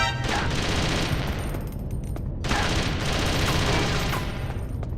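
Sustained machine gun fire in Metal Gear Solid: Twin Snakes on GameCube, two loud continuous bursts of rapid automatic shots separated by a brief pause.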